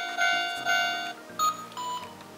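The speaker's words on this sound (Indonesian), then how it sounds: "Ini bunyi lampu merah. Ya, lampu lalu lintas." Electronic beeping tones from a Tomica Town toy traffic light in repeating bursts with short pauses between them, a small toy-like signal sound, fairly clear with no talking.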